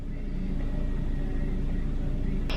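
Interior of a car driving through a city on the way to dinner: a steady close engine hum and road rumble with no talking, ending on a short sharp click.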